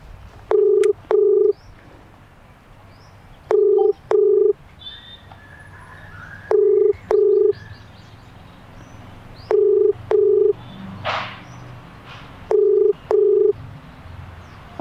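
A telephone ringback tone sounds in five evenly spaced double pulses, about three seconds apart, clear and loud over quiet background hiss.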